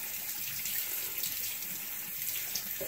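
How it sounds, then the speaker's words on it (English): Hot water runs steadily from a tap while a cloth is rubbed against itself to rinse out makeup, a continuous soft hiss and splash at moderate distance with no voices. "under hot water, rub it against itself to remove all the makeup I just picked up"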